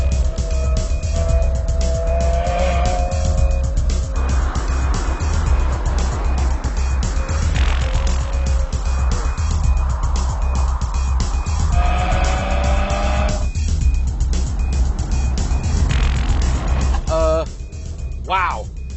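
A 2015 Subaru WRX is driven hard, engine revving up and down through gears while tires squeal in several drawn-out bursts, loud and continuous, with someone talking over much of it.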